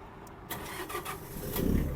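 A Mitsubishi MT-246 mini tractor's diesel engine cranks and catches after the glow plug is warmed, with a brief starter whir building into a steady, rising idle rumble nearby.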